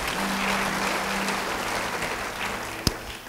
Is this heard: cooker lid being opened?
no